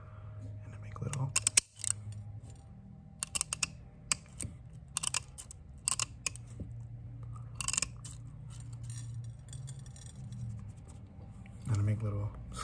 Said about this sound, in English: So these are my scissors, not your regular day-to-day scissors.